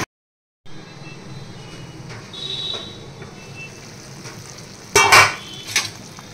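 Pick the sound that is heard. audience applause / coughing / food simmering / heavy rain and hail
food simmering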